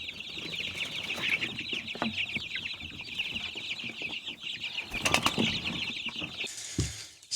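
Baby chickens cheep and cluck continuously in a brooder, a dense chorus of high, chattering peeps with a brief flurry of wing flapping and a few louder knocks near the end.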